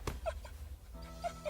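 Lady, a cartoon dog, whimpers in short, high, plaintive whines, three brief cries spaced over the moment, close and clear against a quiet background.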